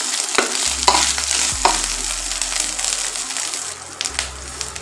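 Okra (ladies finger) fries in a pan with ginger paste while being stirred, a steady sizzle broken by a few scraping clanks of the spoon, close and without talk.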